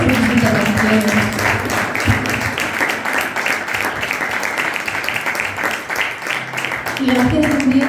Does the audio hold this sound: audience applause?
yes